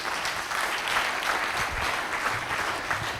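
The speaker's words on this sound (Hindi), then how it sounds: "सो एक बार जोरदार तालियां मेरे लिए" Steady applause from a crowd, a dense wash of clapping that holds at an even level throughout without any voices standing out.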